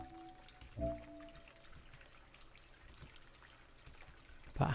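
Water runs past a boulder in a cave in the game Rakuen: a soft, steady trickle and flow, quiet throughout, with a brief louder splash near the start and another at the end.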